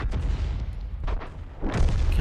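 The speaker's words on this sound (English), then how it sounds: "we've just got hit by an M4, an enemy M4" An enemy M4 shell striking a tank in a tank battle video game gives heavy, close booming impacts, one near the start, another around a second in and a louder one toward the end, over a low rumbling engine bed.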